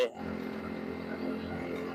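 Low, steady idle burble from the aftermarket exhaust of a modified Yamaha New Vixion motorcycle with wide rims, heard up close under a voice talking.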